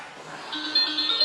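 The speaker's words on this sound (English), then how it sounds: "Is that their doorbell?" A faint electronic doorbell chime rings out, soft and slightly distant, rising in loudness over a second or so with no voices.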